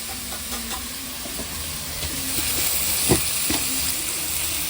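Tomato dropped onto sautéed onions in a hot pan, a continuous close sizzle and hiss with a few stirring scrapes and one sharper clatter, no talking.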